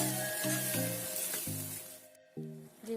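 Boiled chickpeas, split chickpeas and kidney beans hitting a hot pan bring a loud hiss and sizzle at close range, with a fresh burst of spitting near the end.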